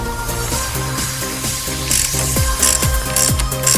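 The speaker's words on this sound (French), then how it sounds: "Et après, vous continuez avec le gros cliquet Power Fix." Large Power Fix ratchet undoing a front brake bolt on a Peugeot 206 1.4 HDI, rapid repeated pawl clicks in bursts, close and loud over a steady background hum.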